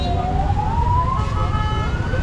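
An ambulance siren wails on a road near a bridge in Sri Lanka, a loud, clear tone rising steadily in pitch as it draws near over the low rumble of traffic.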